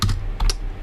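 A computer keyboard is typed on with one hand in a few quick, close clicks, with two clusters of keystrokes heard clearly.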